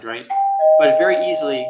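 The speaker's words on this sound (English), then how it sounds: "that's the doorbell" A doorbell chime rings as a sustained two-tone ding-dong under a woman's ongoing speech, the bell's tone lingering steadily while she keeps talking.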